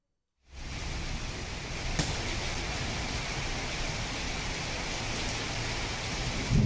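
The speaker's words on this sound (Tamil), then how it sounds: "கனமழை பெய்தது இதனால் சாலைகளில் மழைநீர் பெருக்கெடுத்து ஓடியது" Heavy rain pouring during a thunderstorm over Tamil Nadu villages, a dense steady hiss that starts abruptly and holds at an even level, with no talk.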